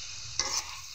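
Fried rice and egg bhujia are stirred together in a pan, giving one brief scraping stir with a soft sizzle over a quiet background.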